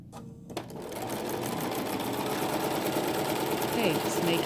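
A sewing machine runs continuously, stitching the seam of a quilt block for a tree pattern; after a brief start it hums steadily and close up for several seconds, with no one talking over it.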